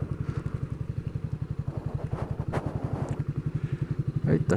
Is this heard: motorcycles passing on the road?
yes